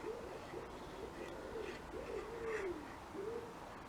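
Soft, repeated cooing of wood pigeons in a flower garden, several low hooting phrases rising and falling steadily, moderately distant over a gentle outdoor background.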